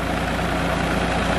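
Tractor engine running steadily, powering two tubewell pumps through a shaft for irrigation in Punjab; continuous loud low rumble with no pauses.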